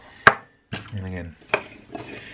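A spoon mixes plain flour and cinnamon in a bowl, giving a few sharp, close clinks against the bowl with short scraping strokes between them, with no talk.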